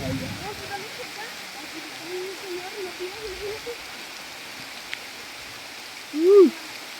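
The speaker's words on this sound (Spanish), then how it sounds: "Y nos agarró la lluvia." Steady broadband hiss of rain falling, fairly faint, with a brief low hooting call near the end.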